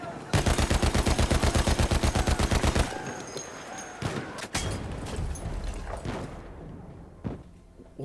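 Rapid automatic gunfire in Battlefield 1, a fast even burst of loud shots for about three seconds, then scattered single shots, thuds and battle noise fading off.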